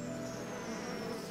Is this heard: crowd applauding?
no